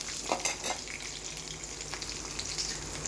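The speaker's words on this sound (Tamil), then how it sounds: "சின்ன வெங்காயத்தை எடுத்து பாதியாக கட் பண்ணி ஃப்ரை பண்ணிக்கோங்க" Halved shallots frying in a pan for a wheat grits dish, giving a steady, close sizzle with faint stirring scrapes and no voices.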